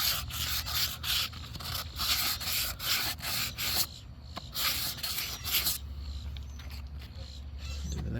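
Sandpaper rubs back and forth over an Estes Hi-Flier XL model rocket body in steady close-up strokes, with a brief pause partway through.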